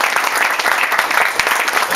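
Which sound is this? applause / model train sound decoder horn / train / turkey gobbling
applause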